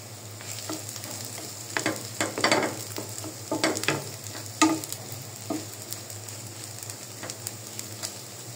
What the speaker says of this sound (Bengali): এ পর্যায়ে আমি আলুগুলি দিয়ে দিব।